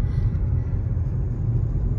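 Steady low engine rumble from inside a moving white car, a continuous drone with no talk over it.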